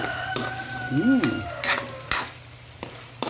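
Chicken, tomato and onion get stirred in a pan, with a few scraping clinks of the utensil and a soft sizzle under the strokes. No one speaks, and the stirring sounds close and moderately loud.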